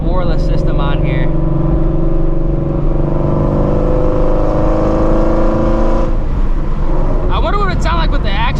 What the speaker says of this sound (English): Don't want to interrupt the exhaust note. It has the Ford Borla system on here.